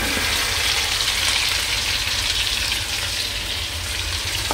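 Shrimp sizzle and fry steadily in a hot pan while being stirred, a dense continuous hiss with no voices, cooked for a dish with ground peanut.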